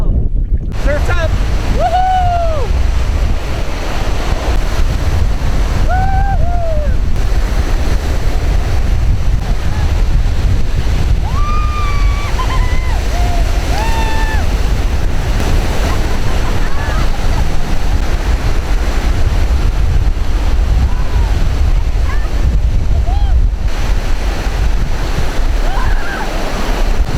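Ocean surf and strong wind on the Nova Scotia shore, a loud continuous roar of waves with heavy wind buffeting, and voices calling out now and then underneath.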